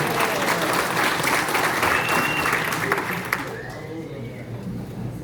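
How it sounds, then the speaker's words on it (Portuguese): Applause from an audience welcoming newly licensed real estate brokers at a ceremony, dense and steady for about three seconds before thinning into a quieter patter, with some speech mixed in. "Salve de palmas."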